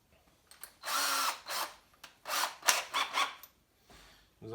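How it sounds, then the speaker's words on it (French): A power drill bores into wood while a cabinet for a jointer is built, several whining bursts of varying length separated by brief pauses, close and clear. "nous allons percer donc dans la zone où le bois va venir"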